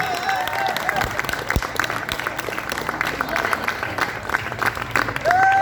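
Crowd at a Gurkha Samurai Fellowship graduation ceremony applauding a called-out graduate, steady clapping with some cheering and talk mixed in, continuing throughout.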